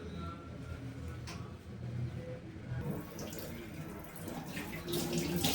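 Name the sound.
washing mutton brain in water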